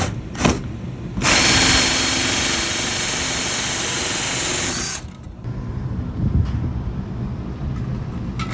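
A power drill running in bursts near an air-conditioner evaporator coil, a short buzz, then a loud sustained whine of about four seconds that cuts off sharply, followed by quieter handling noise.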